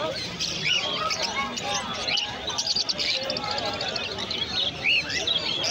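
Conure parrots, including yellow-sided conures, call at a busy bird market, with repeated sharp chirps and squawks scattered over crowd murmur and someone talking nearby.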